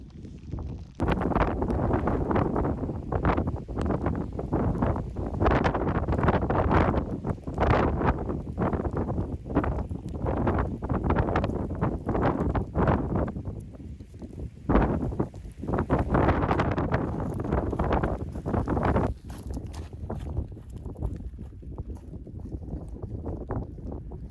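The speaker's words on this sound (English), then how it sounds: "it's really windy" Strong wind on a high-altitude mountain beside a lake buffets and roars against the microphone in gusts, steady and loud for the whole stretch with no voices.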